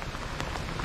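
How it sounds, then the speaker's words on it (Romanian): Rain falling outdoors on a city street in Amsterdam, a steady close hiss of drops on surfaces with a few louder splashes, no voices. "Afară a început să plouă."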